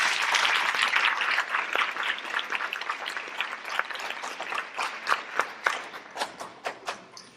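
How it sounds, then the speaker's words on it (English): Audience applause at a health meeting event, a dense burst of clapping that thins out over several seconds into scattered individual claps, fairly close and moderately loud. "So I want you to give yourselves a round of applause."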